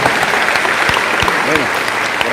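Loud, dense applause from a church congregation during a Catholic assembly, steady and continuous, with a voice briefly audible over the clapping.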